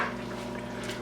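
Cornstarch slurry poured into simmering chili colorado, a short liquid pour with soft watery trickling over a low steady hum.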